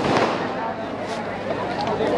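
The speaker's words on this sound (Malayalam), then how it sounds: "ചെറിയ വെടിക്കെട്ടാണ് കേട്ടോ" A small fireworks display near a church in Kochi at night, crackling bursts and pops spread through the clip over a busy background, with a person talking over it.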